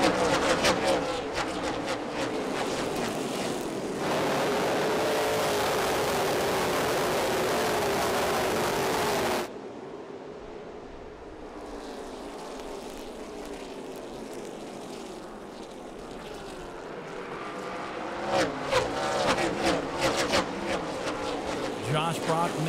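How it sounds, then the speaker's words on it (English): Race cars roar through turn four on a short oval track in a NASCAR-style event, a loud continuous engine drone that drops in level partway through and then swells again, with an announcer talking over it. "They're on the gas already, firing at a turn number 4."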